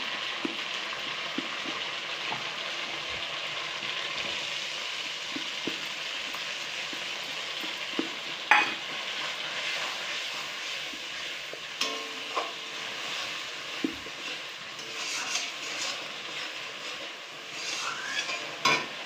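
Masala sautéing in oil with poppy seed and cashew paste: a soft, steady sizzle broken by scattered spatula scrapes and light clinks against the pan.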